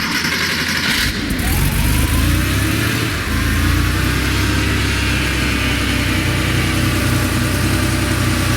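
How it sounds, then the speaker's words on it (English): A Porsche Speedster engine drones loudly and steadily during a ride, with a brief shift in tone and a rising pull as it accelerates, plus constant road and wind rush. "we went out for a really fun ride in the Speedster"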